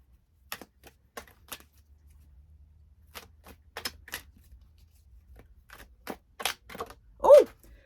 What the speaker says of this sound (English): I have the fairy cards here by Radley Valentine. I'm going to give them a shuffle